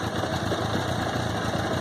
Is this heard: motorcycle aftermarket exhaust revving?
yes